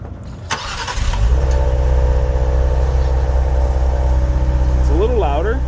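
A Ford Explorer ST with a newly fitted X-pipe exhaust cranks and catches, settling into a loud, steady idle rumble close by.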